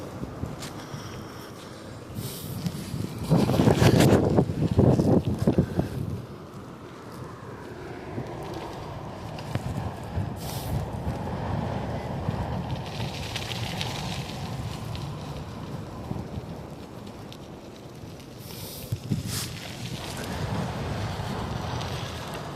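Wind buffeting a bicycle rider heading into a headwind on a Toronto city ride, a loud rushing gust in the first seconds easing to a steady broadband roar with occasional bursts of noise.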